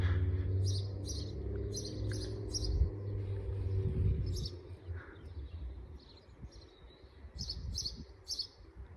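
House sparrows in a seaside garden on the Isle of Wight, chirping in short repeated bursts against a steady low rumble of wind or traffic, moderately close and clear.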